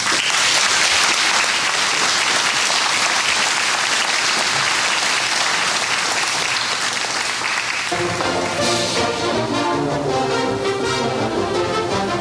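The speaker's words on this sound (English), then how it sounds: "How about another round of applause for all of our inductees?" Hall of fame induction crowd applauding an inductee, a dense, steady roar of clapping for about eight seconds before music comes in and plays over the fading applause.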